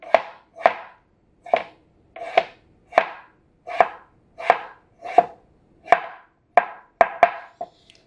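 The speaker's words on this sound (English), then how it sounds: "We just want to cut the edges on the side." A knife chops steadily on a cutting board, trimming the edges of food for a simple lamb dish, with about a dozen crisp, evenly spaced cuts, close and clear in a quiet room.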